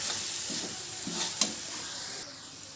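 A spoon stirs tomato and onion masala with chili powder and turmeric in a hot pan for egg curry, giving soft scraping strokes over a steady sizzle, with one sharp clink partway through.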